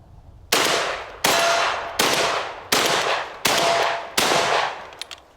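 A Benelli M4 semi-automatic shotgun fires six loud, sharp blasts at a steady pace of roughly one every 0.7 seconds during a 500-round durability test, each boom ringing off before the next.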